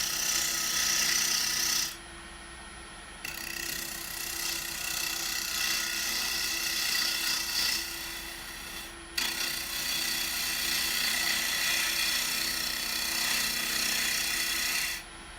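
Carbide cutter turning a cedar wood vase on a lathe, a steady close whirring hum with broadband scraping hiss that cuts out briefly twice and resumes, continuous for the whole stretch with no talk.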